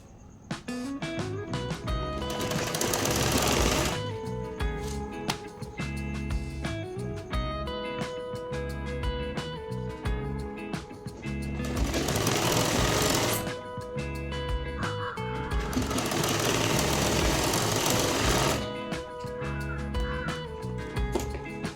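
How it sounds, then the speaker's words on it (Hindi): A sewing machine stitches a salwar in several long bursts of rapid mechanical whirring, loud and close, separated by quieter gaps where the fabric is handled. "इस प्रकार से पकड़ के फिर इसको हम सिल लेंगे।"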